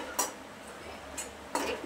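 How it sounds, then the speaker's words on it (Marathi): Dried grated coconut is lightly roasted in a pan while a spoon scrapes and stirs it. Three brief, close scraping strokes stand out over a quiet background. "थोडंसं हलकं त्याला भाजून घेते।"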